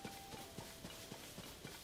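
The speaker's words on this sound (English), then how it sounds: "There's a horse over here." Horse hooves clip-clop in Zelda: Tears of the Kingdom, a faint, regular trotting rhythm of about eight soft hoof strikes over a quiet game ambience.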